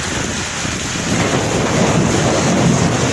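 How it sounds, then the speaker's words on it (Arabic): A strong winter storm wind roars through Alexandria at night, a loud, continuous broadband rush with no pauses that swells slightly toward the end. "بداية الفيديو كده النوة اشتغلت"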